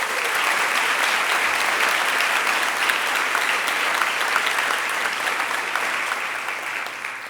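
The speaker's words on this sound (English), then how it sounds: "Please join me in giving them a big round of applause." Sustained audience applause fills a pharmacy class pinning ceremony, a dense, steady wash of many hands clapping at once that holds even throughout and tapers only slightly toward the end.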